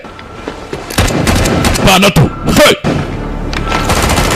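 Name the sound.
gunfire in a movie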